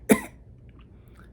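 A single sharp, close cough bursts out at the start, then fades into quiet room noise.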